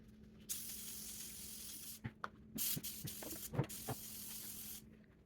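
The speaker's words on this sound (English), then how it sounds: "Okay, so everything is drenched in Lysol, floor to sink, all of that." Lysol disinfectant is sprayed onto a kitchen counter in a series of quick hissing bursts, close and fairly quiet, broken by short gaps and small clicks from the trigger.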